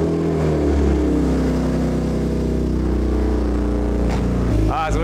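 A car built by Max runs steadily at a loud, close idle, its engine note rising briefly near the end with a revving surge, while faint voices come through underneath.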